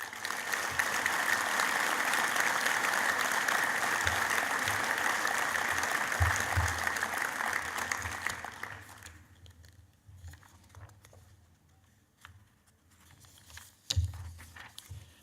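An audience at an evening event applauds steadily for several seconds, a dense wash of clapping that fades out, followed by scattered faint taps and quiet room noise.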